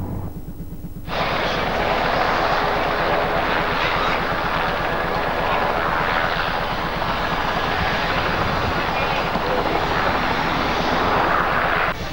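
A Yak-52 aircraft's engine runs at a steady, loud drone close by after an engine check. It starts abruptly about a second in and holds an even, continuous roar throughout.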